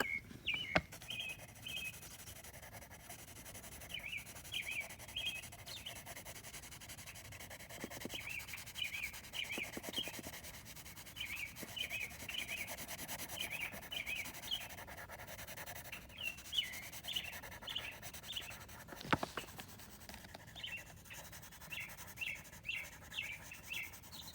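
Steady scratchy rubbing of a coloring tool across paper while a drawing is shaded dark, continuous close strokes at low volume with faint chirping in the background.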